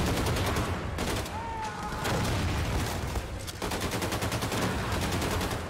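Heavy automatic gunfire from a firefight in the video game Wolfenstein II: The New Colossus, loud and near, with dense continuous bursts and brief gaps across the whole stretch.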